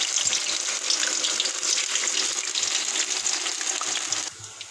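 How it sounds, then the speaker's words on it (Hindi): Potato slices threaded on sticks fry in hot oil, giving a loud, steady crackling sizzle close up with no speech, before it drops away sharply at the end. "अब हमने इन स्टिक्स को ऑयल में फ्राई करना है।"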